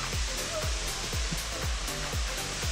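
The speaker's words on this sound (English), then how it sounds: "Waterfall, you see it loud and clear." Steady roaring rush of a waterfall fills the clip, with low thumping bursts recurring underneath.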